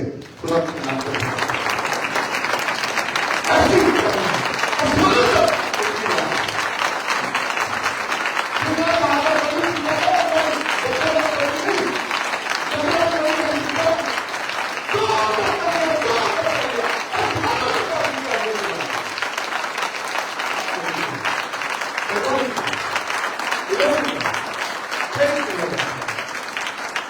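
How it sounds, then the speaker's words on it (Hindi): A church congregation at a Sunday service applauds loudly and continuously for nearly half a minute, a dense sustained clapping roar, while a voice talks intermittently over it. "बैठे हो जोरदार तालियों से खुदा के नाम पर"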